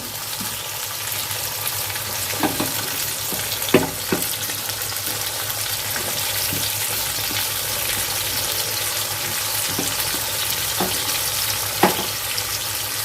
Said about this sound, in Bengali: এবার এর মধ্যে শিমটা অ্যাড করে দিচ্ছি আমি